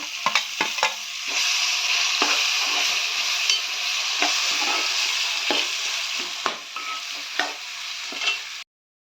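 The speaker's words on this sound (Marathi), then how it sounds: "टोमॅटो हे पूर्ण व्यवस्थितपणे शिजस्तोवर एक 10 मिनिटं शिजून घ्या" Tomatoes cook in a pan for an egg bhaji, giving a steady, close sizzle broken by scraping stirs and light clicks of the utensil, until the sound stops abruptly near the end.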